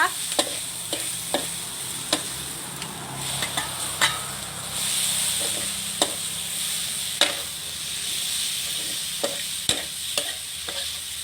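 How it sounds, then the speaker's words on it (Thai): Sliced shallots stir-fried over high heat in a wok until golden for a liver holy basil stir-fry, a steady close sizzle broken by a dozen sharp spatula clacks at irregular intervals. "ผัดให้หอมเหลืองค่ะ หอมแดงไปผัดด้วยนะคะ"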